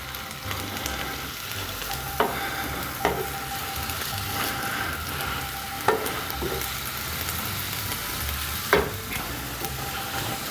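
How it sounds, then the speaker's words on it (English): Steady sizzling of onions frying in a pan, with occasional soft clicks and scrapes of stirring. "let's have you sizzling away nicely."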